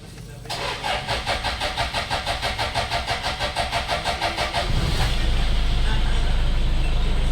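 A Toyota Innova with a repaired broken wire to the common rail fuel sensor cranks with a rapid rhythmic starter chug for about four seconds, then catches and settles into a steady close idle.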